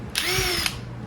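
A power tool whirs in one short burst of about half a second while working on the front brake caliper of a 2008-2011 Mazda 5, close and fairly loud, with a steady low hum continuing after it stops.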